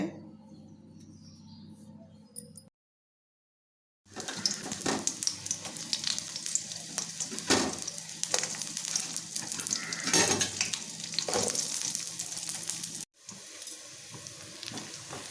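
Oil crackles and sizzles in a kadai for a sustained stretch after a brief silence, with a short pause near the end and faint bird chirps in the background.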